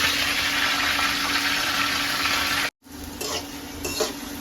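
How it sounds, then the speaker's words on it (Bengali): Steady loud sizzling of food frying in hot oil, briefly cut off, then resuming with a few clinks of a utensil. "আগে মুরগিগুলো ভেজে নেবো"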